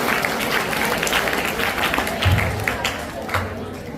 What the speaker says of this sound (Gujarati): તાળીઓના ગગડાથી વધાવી લેજો।